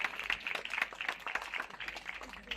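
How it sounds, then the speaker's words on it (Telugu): A crowd applauds at a Christmas celebration in a village prayer hall, with dense and steady clapping from many hands that stays fairly loud and continuous throughout. "గట్టిగా చప్పట్లు కొడతాం."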